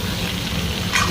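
Three or four green chillies fry in a pan, giving a steady, close sizzle throughout with no talk.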